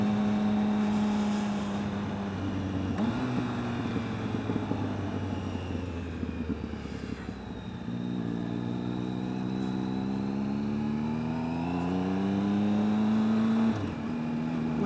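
A 2013 Triumph Speed Triple motorcycle engine pulls hard in third gear, its rising whine climbing steadily through repeated accelerations, loud and close, under rushing wind.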